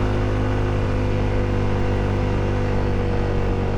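A motorcycle engine drones steadily under load while climbing a steep uphill village road toward the Bromo route, a constant close hum with wind noise and no talking.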